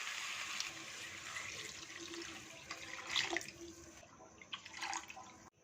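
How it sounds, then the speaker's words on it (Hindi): About two litres of water poured into a pot of mutton shorba, a continuous rushing splash that holds steady, then tapers off with a few final gurgles near the end. "सो इसमें 2 लीटर पानी शामिल करेंगे।"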